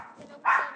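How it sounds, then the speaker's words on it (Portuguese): A dog gives a single sharp bark close by, preceded by a brief quieter whine-like sound. "o seu cachorro tá me atrapalhando demais"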